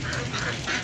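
A flock of around 250 ducks kept for sale quacks together in a steady dense chorus, near and continuous, with no distinct pauses and no speech.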